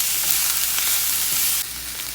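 Anaheim pepper, vegetables and seasoning sautéing in a pan, giving a steady, close hiss of frying and sizzling with a slight drop in intensity partway through.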